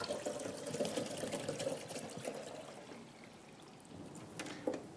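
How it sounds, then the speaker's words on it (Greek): Water is poured into a Columbia water filter system, a steady splashing pour with a brief louder gush near the end, heard close and alone. "Πάμε λοιπόν, ας το γεμίσουμε."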